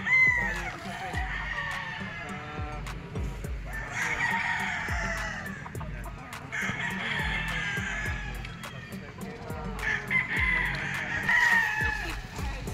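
Boston gamefowl roosters, including a straight-combed Boston Black, crowing on a gamefarm, several drawn-out crows rising one after another at moderate distance over a busy outdoor background.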